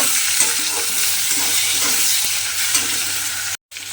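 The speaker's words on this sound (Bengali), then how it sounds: "নুনটা দিয়ে আবারও কিন্তু আমি খুব ভালোভাবে একটু মিশিয়ে নেব।" Moong dal and potato curry being stirred with salt in a pan, a continuous close sizzling and scraping of the spoon through the frying mixture, briefly cut off near the end.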